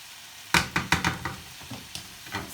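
Minced meat browning in a frying pan for chilli: a handful of loud, close stirring scrapes come in quick succession over a steady background sizzle, with no voices.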